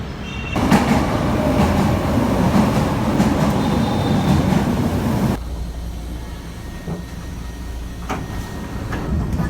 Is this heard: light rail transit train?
yes